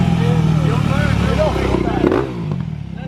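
A dirt bike engine drones loudly and revs with shifting pitch, partly under voices talking nearby, then eases off toward the end.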